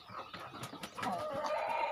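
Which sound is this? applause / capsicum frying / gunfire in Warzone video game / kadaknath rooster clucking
kadaknath rooster clucking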